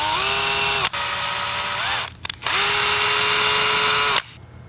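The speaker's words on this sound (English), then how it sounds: "I'm gonna cross drill a hole through there" Power drill cross-drilling a hole through a cam for a motorized prop, a loud steady whine in two long bursts separated by a brief pause.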